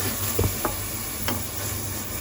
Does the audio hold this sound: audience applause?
no